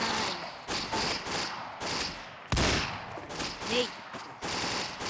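Rapid gunfire from a shooting video game crackles in repeated bursts with loud blasts, while several players shout and talk over the action.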